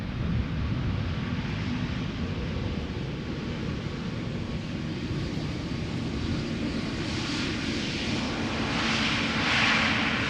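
An Airbus A321neo airliner arrives at Amsterdam Schiphol, a steady jet rumble and rushing roar that swells slightly toward the end, heard alone without voices.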